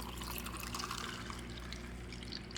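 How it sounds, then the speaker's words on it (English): A peach drink is poured into a glass, making a soft, continuous liquid trickle and splash close by. The sound is quiet and has no talking over it. "And then we're just going to pour it into the glass."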